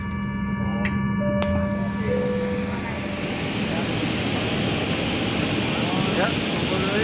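Aircraft at Pattimura Airport in Ambon, with a loud continuous jet engine roar that builds and fills the scene after a few brief tones at the start.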